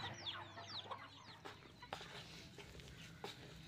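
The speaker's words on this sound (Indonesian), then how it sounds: "di kandang mangba ini juga ada ayam ya" Chickens clucking and chirping softly in a pen where Muscovy ducks are also kept, scattered calls over faint background rustling and occasional knocks, fairly distant and quiet.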